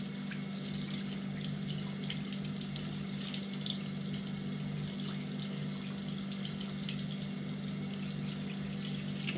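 Running water pours steadily into a sink while a squirrel is skinned underwater by hand. The rushing hiss is constant and close, with occasional faint splashes and a low steady hum beneath it.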